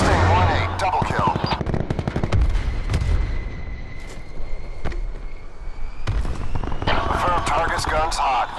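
Aircraft machine-gun fire in a combat video game, rapid bursts of rattling shots in several runs, with radio-style voice callouts talking over parts of it.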